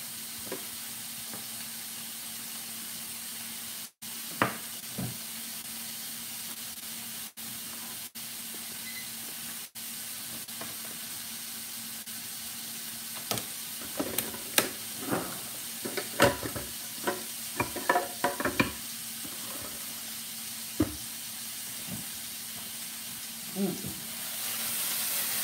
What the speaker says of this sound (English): We're just sauteing the broccolini in a little bit of butter, olive oil,